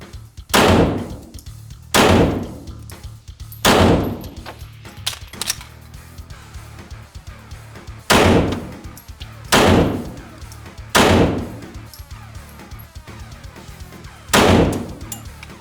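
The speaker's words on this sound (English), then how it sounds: "dominant hand, draw 1 shot on target 3, 1 shot on target 4 for 4 iterations" Pistol shots fired at steel targets on a shooting range, eight sharp loud reports arriving in pairs about one to two seconds apart, each with a brief ringing tail and quiet gaps between pairs.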